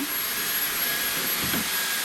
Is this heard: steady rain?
no